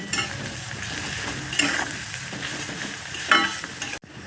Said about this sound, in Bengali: আর ভালো করে আবারও এক মিনিট ভেজে নেব এই রসুনের সঙ্গে